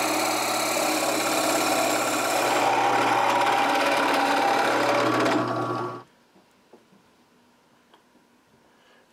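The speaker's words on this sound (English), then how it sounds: "I'm going to bring it over to my drill press, and I'm going to drill down" Drill press boring into wood with a 3/4 inch spade bit, a loud steady motor whir and cutting hum that runs for about six seconds, then stops abruptly, leaving near silence.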